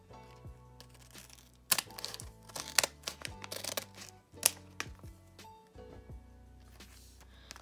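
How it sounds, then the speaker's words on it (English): Crinkly plastic rustling with a few sharp snipping cuts, close by and fairly quiet, with music playing softly underneath. "I'm going to take my scissors and cut through the bag"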